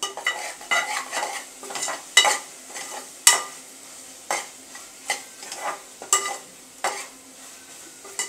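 Spoon stirring a pot of sambar on the stove, with repeated scraping strokes and clinks against the metal over a steady soft sizzle, close and clear, no talking.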